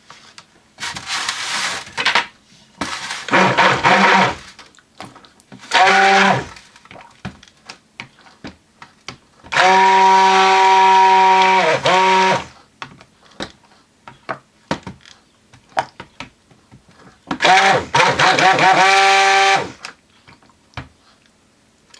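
Cold process soap batter is mixed in several separate bursts of steady, whirring tone, each lasting a second or a few seconds, with quieter clicks and handling noises between them.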